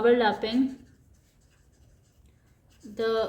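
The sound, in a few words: writing by hand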